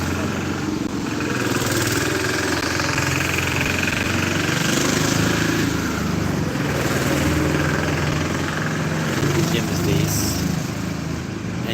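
A small tractor engine chugs steadily at close range, a continuous putt-putt idle rumble running the whole time.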